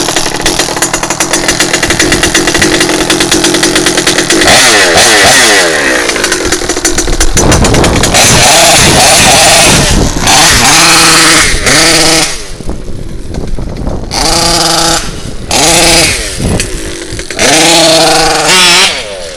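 An HPI Baja RC car with an RCMAX 90GT engine and an unsilenced, unpacked muffler revs hard, a loud raspy two-stroke buzz that surges and drops through repeated throttle blips, close and alone.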